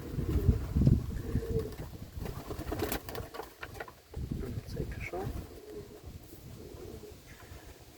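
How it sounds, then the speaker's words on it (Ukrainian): Pigeons in a dovecote, already-paired birds, give soft low cooing and rustling close by, while someone talks over them throughout and the birds' sounds run under his voice. "Голуби досить гарні, вже спаровані пари."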